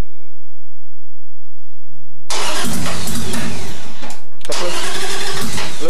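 A 2002 Harley motorcycle engine revving loudly in a garage, a sudden roaring burst that surges, briefly drops, then picks up again, very close and overwhelming, following a quieter stretch with faint background sounds.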